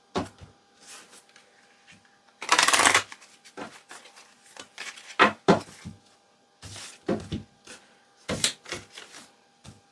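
Tarot cards being shuffled by hand, a run of crisp papery riffles and slaps in short bursts with pauses between, one long dense riffle near the start, close and fairly quiet.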